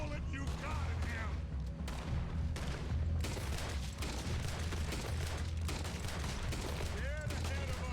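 Gunfire in Red Dead Redemption 2: repeated shots and bursts crackle in irregular volleys across the scene, with voices underneath.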